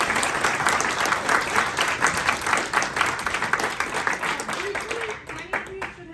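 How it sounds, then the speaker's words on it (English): Sustained audience applause closes a university lecture on conscientious objection in healthcare, dense steady clapping filling the room for several seconds before thinning out near the end as a voice begins speaking. "Let's please give a great round of applause to Dr."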